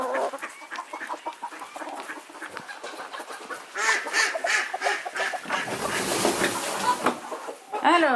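Hens clucking and squawking inside a backyard henhouse, a busy chorus of calls that swells louder in the second half, with a person talking softly among them.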